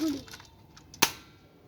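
A toy cap gun fires one sharp, close crack that stands alone in a quiet room, with a brief voice just before it.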